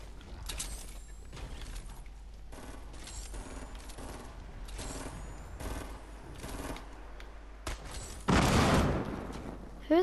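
Bursts of gunfire in a 50v50 video game match, with repeated rapid volleys and mechanical clatter, then a louder close blast near the end, while a player talks intermittently.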